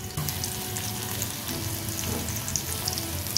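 Pakoras fry in hot oil with a steady close sizzle and crackle, punctuated by occasional pops.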